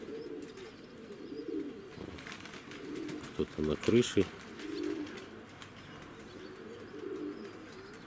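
Pigeons in a loft giving soft, low cooing calls that repeat throughout, mixed with a few brief flutters and chirps, while a person speaks quietly over them.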